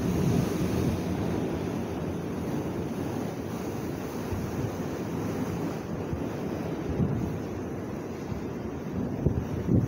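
Stormy October sea waves crash and wash steadily onto the shore, with heavy wind buffeting the microphone, a dense continuous roar lasting throughout with no voices.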